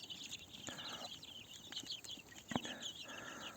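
Young chicks and roosters kept together cluck and peep in a steady, faint chatter of overlapping calls, with a few soft taps and one sharper knock nearby.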